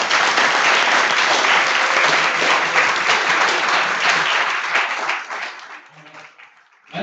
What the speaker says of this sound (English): So let's give one more round of applause to Coach Travis Turner, Keith Chandler, and Ken Boston.